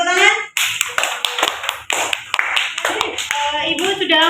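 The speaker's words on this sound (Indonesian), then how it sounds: "Oke, kita beri tepuk tangan." A biology class applauds a group after its presentation, with sharp, uneven hand claps that start and stop in bursts while children's voices talk in between.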